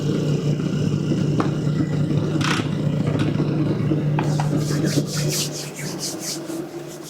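An electric sifter runs steadily as it sifts freshly milled grain into flour, giving a continuous close rubbing, rasping whir over a low motor hum that eases off slightly near the end.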